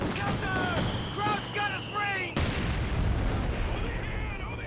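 Mortar fire and other combat sounds in the Company of Heroes 2 real-time strategy game, a sharp boom midway amid ongoing battlefield rumble, with a commentator talking over it.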